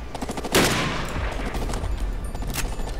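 A weak gun fires in the video game SAS Secure Tomorrow, a close, loud burst of rapid shots that opens with a sharp blast and carries on as a continuous rattling fusillade.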